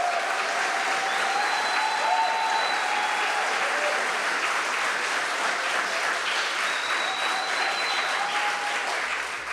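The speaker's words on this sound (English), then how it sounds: "Let's give Sabrina a round of applause," Crowd at a basketball talk event applauding guest Sabrina Ionescu, steady full applause across almost ten seconds with faint whistles above it, easing slightly at the end.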